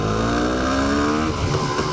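A car engine runs close by and loud with no pause, revving steadily through its gears with strong power; no one speaks over it.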